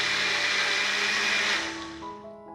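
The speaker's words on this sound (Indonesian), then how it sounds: "Selanjutnya ini kita blend lagi sampai santannya keluar." A blender whirs loudly as it blends grated coconut with water to make coconut milk, a steady high motor roar that winds down and fades out near the end.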